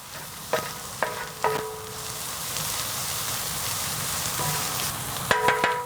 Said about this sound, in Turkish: Şimdi güzelce bir karıştıralım.